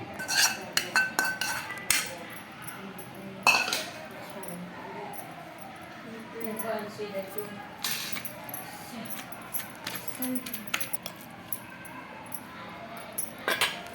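Onions being pounded in a stone mortar for a mint roti chutney, giving a series of sharp, irregular clinks and knocks close by, spread through the clip over a quiet kitchen background.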